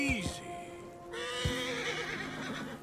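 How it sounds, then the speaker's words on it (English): A horse neighs shrilly in Red Dead Redemption 2, spooked near a black bear: a close, high whinny with a rising then falling pitch, followed by snorts and a few hoof sounds. "Yep, the horse don't like him."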